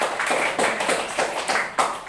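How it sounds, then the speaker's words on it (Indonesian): A classroom group claps for a class presentation, a close, loud patter of hands in uneven rhythmic bursts. "Untuk kelompok 3 beri tepuk tangan"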